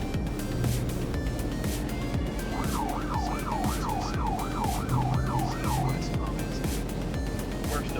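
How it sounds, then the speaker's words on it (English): A police car siren wails in a rapid rising-and-falling yelp for about three seconds over constant road and engine rumble, fairly close during a highway traffic pursuit. "He turned on his siren and signaled for a stop"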